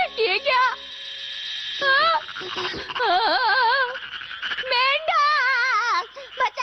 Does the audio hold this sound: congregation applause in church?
no